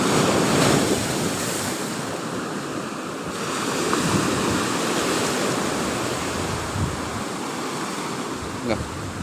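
Ocean surf rolls and crashes steadily on a beach during a fishing trip, a loud continuous wash of breaking waves with wind buffeting the microphone throughout and no clear voices.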